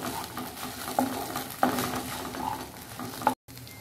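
Ginger-garlic paste with cauliflower, peas and carrot being stirred in a pan, soft sizzling under several distinct clinks of a spoon against the metal, close and unaccompanied by talk, ending in a sudden cut.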